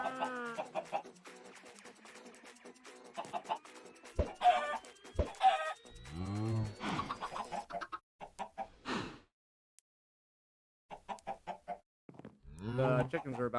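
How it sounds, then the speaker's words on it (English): Chickens cluck and squawk in the video game Project Nope Zone, a run of close, loud bursts of clucking separated by short pauses, with some voice mixed in. "The chickens are about ready to get bred again."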